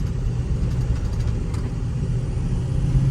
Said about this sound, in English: Just ran over some rumble strips, by the way.